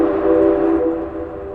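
A train running on railway tracks makes a loud, steady rumble, with a sustained tonal drone like a distant horn layered over it.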